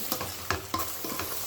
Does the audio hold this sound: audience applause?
no